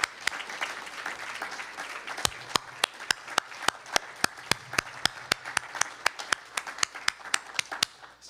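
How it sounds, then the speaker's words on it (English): An audience applauds for Celeste Lecesne after a faculty presentation, with dense, steady clapping from a room of people and a series of sharp, near hand claps standing out throughout. "we need to give Celeste Lecesne another big round of applause"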